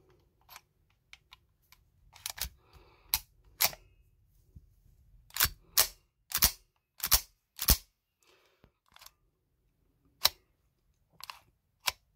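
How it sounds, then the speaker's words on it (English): Airsoft CZ Shadow 2 pistol fitted with a CNC hop-up chamber and fixed outer barrel, dry fired: a dozen or so sharp, close mechanical snaps in irregular bursts, some in quick pairs, with quiet gaps between. "I'm not going to shoot BBs through it right now, but I will dry fire it to make sure that obviously it's going to like actually function and cycle"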